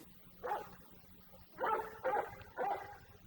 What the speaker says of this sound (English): A dog barking.